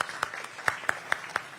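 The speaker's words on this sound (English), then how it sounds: "That's a round of applause." Sparse audience clapping at an economic summit, with a few distinct hand claps spaced a fraction of a second apart over a low murmur, short and moderately close.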